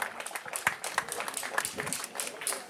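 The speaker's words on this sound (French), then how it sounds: "Applaudissez très fort ces présidents qui viennent de s'asseoir." Scattered hand claps from a crowd welcoming newly seated presidents at a youth gathering on the square of EPP Guété. The claps are uneven and moderately loud, with no talk over them.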